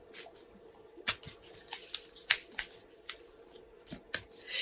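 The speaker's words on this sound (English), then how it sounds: "now I'm shuffling our Sacred Traveler Oracle cards" Sacred Traveler Oracle cards are shuffled by hand, soft papery slaps and flicks recurring irregularly, close but quiet, over a faint steady background hum, with no speech.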